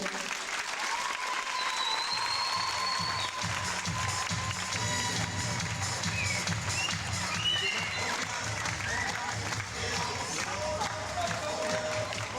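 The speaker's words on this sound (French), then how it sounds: "Donc on peut les applaudir tous les trois." An audience at a gym club thank-you ceremony in Montalieu applauds at length, a continuous, even roar of clapping from a crowd, with a voice and some cheering mixed in.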